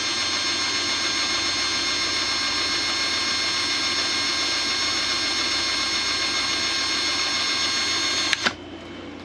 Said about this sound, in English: Why is my drill jumping?